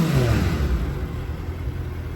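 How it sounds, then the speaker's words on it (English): A stock Suzuki Hayabusa motorcycle engine, no aftermarket parts fitted, rumbles loudly and close at steady revs, a deep continuous engine roar with no talking. "This is how the stock Busa sounds"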